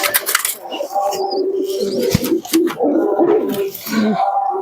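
Giribaz pigeons coo close by in short, throaty bursts, several rolling calls following one another with brief pauses and some bird movement between them.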